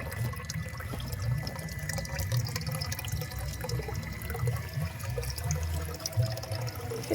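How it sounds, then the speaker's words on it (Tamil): Water flows steadily through a homemade top filter for a plant setup, a continuous low gurgling trickle at moderate level with no voices. "சுற்றி வந்து பாயுது தண்ணி."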